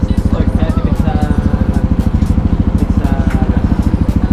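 A Yamaha NMAX V2.1 scooter engine on its stock exhaust runs close and loud, with a fast, even pulse that holds steady throughout.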